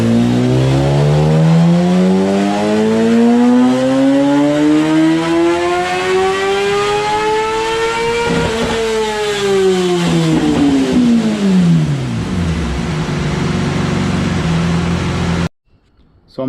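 A 2014 Kawasaki ZX10R sport bike on a dyno winds up in one long, loud pull to a screaming high-rpm peak, then falls away as the throttle closes, ending in abrupt silence.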